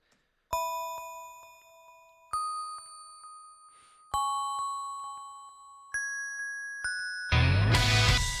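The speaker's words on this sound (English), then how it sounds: "I added something called delicate bells" Soft bell tones strike one at a time, each ringing out and fading slowly, before a burst of brighter, fuller music at the end.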